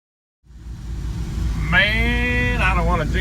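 1974 Chevrolet C10 pickup with a TH400 automatic transmission pulling away on a test drive, a steady low engine rumble that rises in pitch as it accelerates, up close and loud.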